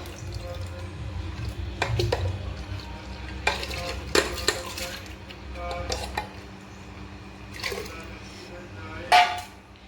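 Dal goes into a pot on a home kitchen stove with bay leaf and hot water, bringing stirring clinks, soft sizzling and scattered pot-and-utensil knocks at close range, capped by a sharp clatter near the end.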